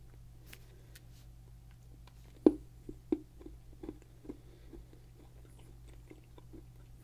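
Close, crisp chewing of powdery raspberry candy that softens into bubble gum, a few sharp crunchy bites early on, then quieter sticky mastication over a steady low hum.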